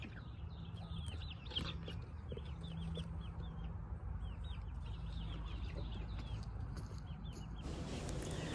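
A flock of chickens of different ages clucks and chirps continuously nearby over a low rumbling background, murmuring without pause.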